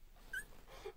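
Two-week-old border collie puppies whimper faintly during play, with a couple of thin, high whines over quiet background rustle.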